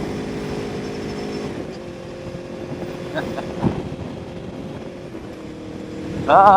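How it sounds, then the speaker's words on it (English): An Aprilia motorcycle engine drones steadily while riding, with wind buffeting the microphone and a faint voice in the mix. "The freedom of being back out on a motorcycle"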